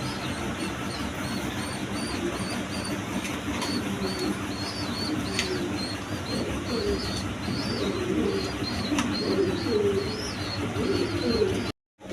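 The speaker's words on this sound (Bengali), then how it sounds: "এইখানে এক পেয়ার মক্ষী কবুতর আছে" A pair of Mokkhi pigeons coo repeatedly nearby over steady background noise, with other bird chirps mixed in.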